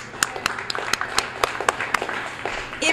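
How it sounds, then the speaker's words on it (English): Scattered, fairly light clapping from an audience at a Pick n Save store grand opening, individual claps standing out sharply over a soft background murmur. "please give yourselves a round of applause for showing up tonight"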